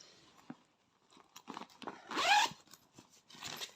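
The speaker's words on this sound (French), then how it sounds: "il a une poche, une grande fermeture éclair ici" A large zipper on a new leisure bag is pulled open in a few quick rasping strokes near the microphone, with brief rustles and handling noises between them and no talking.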